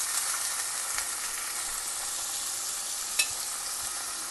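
Onions sizzle in hot oil in a pan already fragrant with cinnamon and spices, a steady loud frying hiss throughout with faint stirring scrapes and one sharp clink near the end; no talking.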